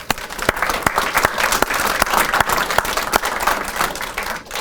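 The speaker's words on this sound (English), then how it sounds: "if y'all would give them a round of applause" An audience applauds Lori and Andy Simpson at a keynote event: dense, steady clapping from a sizeable crowd, close and full, holding at an even level for several seconds with no talking over it.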